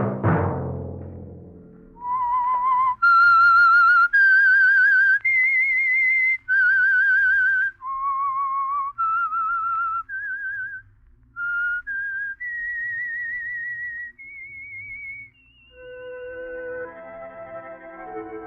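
A clear solo whistled melody, the theme of The Whistler radio mystery show, rises and falls in a run of sustained notes and short phrases, close and bright against a quiet background, with no talking.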